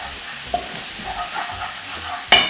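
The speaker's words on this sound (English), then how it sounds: "I'll saute this for about 30 seconds." Chopped vegetables with Scotch bonnet pepper sizzle in a pan, a close, constant frying hiss punctuated by two sharp utensil clinks as they are stirred.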